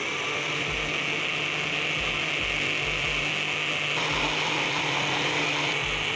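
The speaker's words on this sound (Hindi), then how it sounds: "तमाम चीज़ों को डाल के हम अच्छी तरह ब्लेंड करेंगे।" A kitchen blender whirs steadily as it mixes strawberries, milk and cream into a milkshake, a loud, continuous motor drone with a rough, grinding texture and faint rhythmic low thumps.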